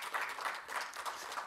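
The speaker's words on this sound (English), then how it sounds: "I would just like one more round of applause for the panelists and their" Brief applause for panelists at a conference panel discussion: a faint, short burst of scattered clapping in a room, slightly pulsing, with no voices.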